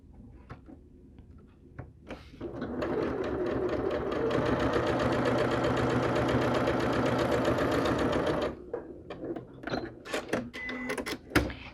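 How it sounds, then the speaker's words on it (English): A sewing machine stitches a quarter-inch seam on a quilt block, running as a steady close mechanical whir for several seconds, framed by handling clicks and rustles of fabric before and after. "I'm going to sew a 1/4 inch on either side"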